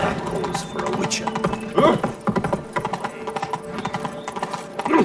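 A galloping horse in The Witcher 3: Blood and Wine pounds out rapid, loud hoofbeats for the whole stretch, with voices breaking in briefly over the gallop.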